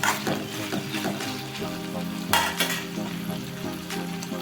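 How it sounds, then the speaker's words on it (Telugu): Ivy gourd sizzles in a pan as tamarind and a few garlic cloves are added and stirred in, a dense close frying hiss broken by scraping stir strokes and a brief louder burst midway, with no talking. "అందులో కొంచెం చింతపండు, ఒక 4-5 వెల్లిపాయలు వేసుకొని ఒకసారి కలపాలి."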